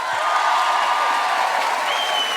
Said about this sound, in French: Vous allez encore devoir applaudir nos 2 parrains, Laurie Pester et Nicolas Fraissinet.